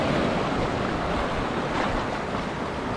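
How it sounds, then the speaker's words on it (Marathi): Rising sea water surging near the shore at night during cast net fishing off Mumbai, a close, continuous rush of waves mixed with wind buffeting the microphone, loud and unbroken with no voices. "समुद्राचा पाणी सुद्धा खूप वरती येत आहे"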